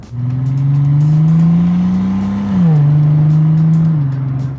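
A Bentley Continental GT Speed Black Edition convertible engine roars loud and close, a smooth deep drone that climbs steadily in pitch, dips briefly as it shifts, then rises again before settling, with no talk over it.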